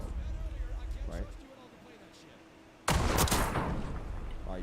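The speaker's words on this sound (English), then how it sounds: "No, you shot him in the balls." Rapid gunfire bursts from a search-and-destroy match in a first-person shooter video game, crackling loudly in the final seconds after a quieter stretch, with players talking over the game audio.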